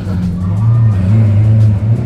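Supercar engine on a London street, a steady low throaty drone that swells as the car accelerates away up ahead, loud and continuous for about two seconds, with faint background chatter.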